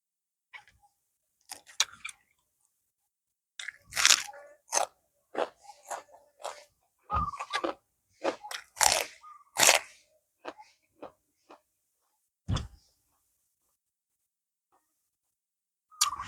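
Crisp, crunchy bites and chewing of raw vegetables eaten with salted mackerel, loud and close, in irregular bursts separated by quiet pauses, with no speech.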